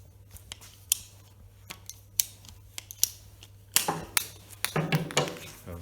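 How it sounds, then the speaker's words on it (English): A handheld pipe cutter working around a short length of pipe, heard as a string of close, sharp clicks that build into denser, louder scraping and ratcheting rasps toward the end. "by far the best method of cutting pipe is with a pipe cutter. So we'll just cut a little bit of pipe."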